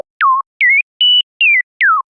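A Serum 2 sine oscillator sounding three octaves too high: five short, pure whistling tones, some sliding downward and one held steady, evenly spaced and clear with nothing else around them.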